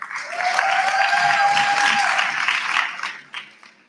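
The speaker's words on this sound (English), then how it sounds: "Let's give them a round of applause, please." Loud, sustained applause from a large crowd at a national student council induction fills the space, with a whistle running through it, then tapers off and fades near the end.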